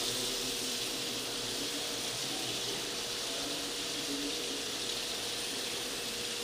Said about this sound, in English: all the tap water is running